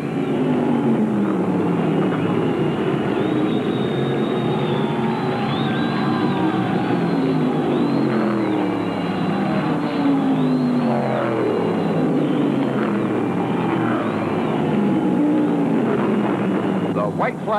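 Mid-1970s NASCAR stock cars, including a Dodge, roar around the Martinsville Speedway short track in a steady, loud engine drone, with overlapping engine passes rising and falling under continuous race commentary.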